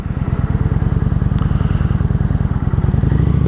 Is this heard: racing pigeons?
no